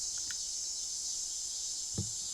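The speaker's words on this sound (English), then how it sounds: "Oh god, cicadas. Cicadas." A steady, high-pitched insect drone of cicadas buzzes continuously throughout, with a couple of faint knocks in the background.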